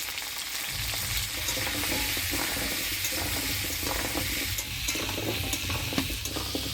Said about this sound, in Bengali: হলুদ লবণ দিয়ে ভালো করে নাড়াচাড়া করে নিলাম